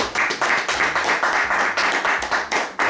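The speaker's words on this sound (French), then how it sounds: "On les acclame d'abord" Rhythmic clapping and applause from a church congregation welcoming newlyweds, steady and close, with brief voices mixed in.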